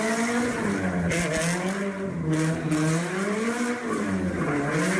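Subaru BRZ with an aftermarket exhaust revving and drifting in a front yard, engine tone rising and falling in repeated sweeps, loud and close with a raspy edge and possible tire squeal throughout.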